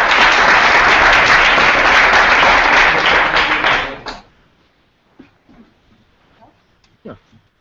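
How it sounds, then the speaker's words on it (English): An audience at a hackathon demo event in Amsterdam breaks into loud, dense applause for a team. The clapping lasts about four seconds and then fades out, leaving a quiet room with a few soft scattered noises. "Give them a applause."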